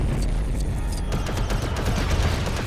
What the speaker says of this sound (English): keep setting me up and I'll keep blasting